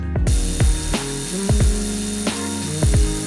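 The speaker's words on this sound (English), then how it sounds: "This Milwaukee electric ratchet is probably the most used tool in my whole toolbox." A Milwaukee electric ratchet whirs close by in about seven short, rapid bursts, each spinning up and cutting off in a quick, stuttering rhythm.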